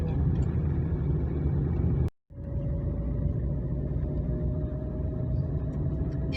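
A car driving along a wide village street, heard from inside as a steady low engine rumble and road noise throughout, broken by a brief sharp cut to silence before resuming, with no voices.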